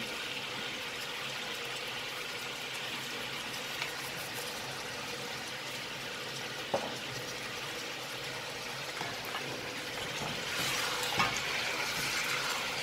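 Ndolet with beef and ripe plantain simmering in a pot, a steady soft bubbling and sizzling hiss with occasional small clinks, growing slightly louder toward the end.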